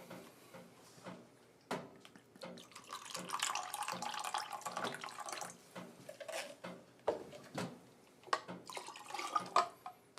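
Pomegranate juice poured into a glass for a cocktail: a close, soft trickling and splashing in uneven bursts, with small clinks, alone without talk.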